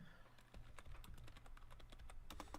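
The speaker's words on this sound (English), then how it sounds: "I was just typing the stuff." Rapid typing on a computer keyboard, a steady run of close, crisp key clicks with uneven rhythm and a few louder strokes near the end.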